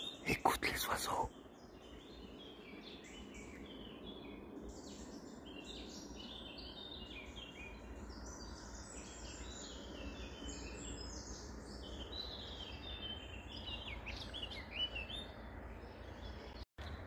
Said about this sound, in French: Écoute les oiseaux.